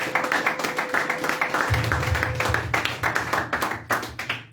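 A church congregation claps in steady, fast rhythm to acclaim the Lord, a loud, even unison beat that fills the room, with a sustained low organ or keyboard tone entering partway through.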